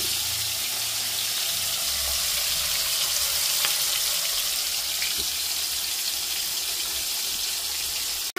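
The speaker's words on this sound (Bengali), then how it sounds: "দেখতে পাচ্ছ চিংড়ি মাছ ভাজা হচ্ছে।" Shrimp frying in hot oil in a wok gives a steady, dense sizzle that runs unbroken at an even level throughout, with no voices.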